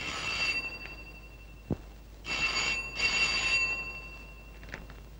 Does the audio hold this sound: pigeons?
no